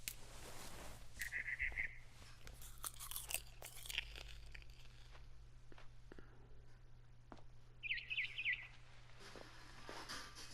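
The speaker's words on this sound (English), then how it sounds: "heard chirping outside my window. It was a barn swallow going back to her nest" A barn swallow chirps outside a window in a video game scene, with two short bursts of bright twittering heard among crunchy chewing and scattered clicks over a low steady hum.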